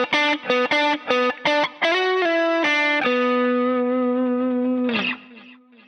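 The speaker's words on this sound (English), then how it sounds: "Ordinarily, the 3rd position is just the middle pickup by itself." A Fender Elite Stratocaster played on its middle pickup alone sounds a series of clean, bright, slightly effected chord stabs, then a held ringing chord that fades out, loud and up close with no voices.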